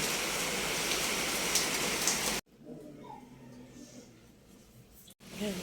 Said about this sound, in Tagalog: Yung sobrang lakas ng ulan.